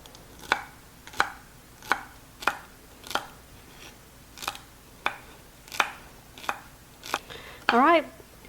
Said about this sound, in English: I've got 2 celery stalks here, and I'm going to dice those very small.